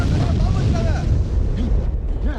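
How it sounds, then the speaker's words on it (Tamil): A bomb blast at a shop produces a loud, sustained rumbling roar that fills the scene, with shouting voices rising over the din. "நம்ம ராவுத்தூர் பாய் கடையில யாரோ குண்டு வச்சிட்டாங்க"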